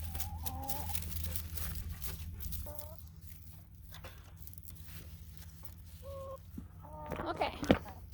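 Chickens cluck in short broken bursts near a horse on a farm, with louder squawks near the end, while a person talks over them.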